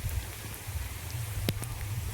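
Light monsoon rain falls in a Gujarati village, a faint, steady patter with a few sharp drops standing out briefly.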